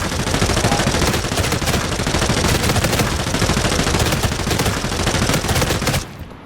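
In the video game Arena Breakout Infinite, an automatic weapon fires one loud, unbroken burst at a very high rate of fire for about six seconds, then cuts off abruptly.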